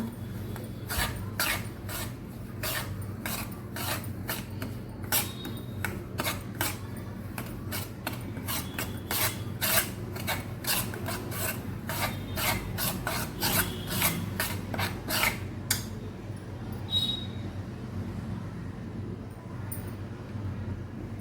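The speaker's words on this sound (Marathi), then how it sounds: "रवा असा भाजून घ्यायचा मग थोडा पाच मिनिट याला भाजून घ्यायचं रव्याला" Semolina (rava) roasts in a pan for rava besan barfi while a spoon stirs it in quick, rhythmic rasping scrapes for about fifteen seconds, then the scraping thins out near the end.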